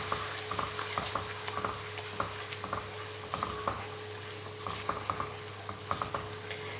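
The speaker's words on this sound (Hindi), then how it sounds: "बाद में आप आलू मैशर की मदद से इसे मैश कर लें।" Radish being mashed in a pan with a potato masher, giving repeated soft squelching presses and scrapes over a steady low cooking hiss, with no voices.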